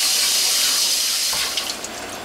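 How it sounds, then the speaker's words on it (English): A juicer cloth is rinsed under cold running tap water while being scrubbed to remove grapefruit and orange pulp; the loud, close, steady rush of the faucet continues throughout, with a few soft splashes and handling sounds toward the end. "scrub the cloth with cold water to get any pulp on there off"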